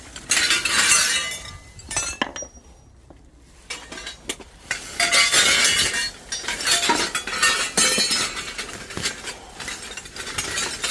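Glass is stripped off scrap copper, sharp clinks and crunching snaps in irregular bursts with brief pauses, loud and close by, no talking.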